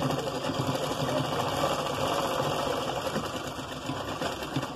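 Sewing machine stitching elastic onto cloth for a palazzo pant waistband, a fast continuous mechanical whirr with a steady rhythmic clatter, close and alone.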